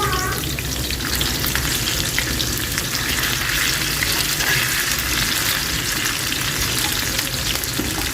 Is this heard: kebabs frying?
yes